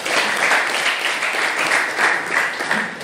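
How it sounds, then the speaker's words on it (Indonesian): A classroom group gives a short, steady round of applause for a student's answer, many hands clapping together at moderate volume for about three seconds. "tepuk tangan untuk suaranya"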